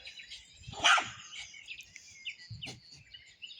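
A dog barks outdoors in Vinon-sur-Verdon, one sharp close bark followed later by a shorter one, with birds chirping faintly in the quiet background.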